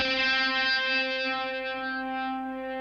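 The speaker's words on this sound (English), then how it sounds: "listen to this distortion" A sustained piano chord of two notes an octave apart, played through heavy amp distortion, rings out, its bright, buzzy harmonics slowly decaying.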